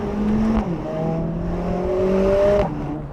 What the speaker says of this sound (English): That upshift, classic A45, reminds me of the first gen.